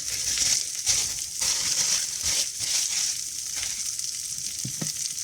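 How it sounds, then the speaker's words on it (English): Sourdough bread and mushrooms frying in a skillet: a steady, close sizzle with a constant high hiss, broken by a few soft scraping and stirring knocks, no voices. "we're going to cook the sourdough up a little bit"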